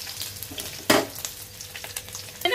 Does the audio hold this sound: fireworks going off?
no